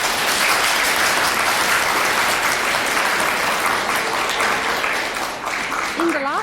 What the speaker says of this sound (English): let's give a warm round of applause to welcome Rinpoche's arrival